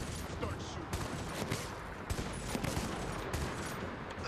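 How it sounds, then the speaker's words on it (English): Dense, continuous gunfire from the Army of Two: The Devil's Cartel video game, rapid overlapping bursts and shots filling the scene, with a voice talking over the barrage. "Start shooting."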